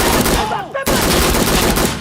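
Rapid weapon gunfire in a first-person shooter video game, loud close bursts of automatic shots with a brief gap just before the one-second mark, then continuous firing.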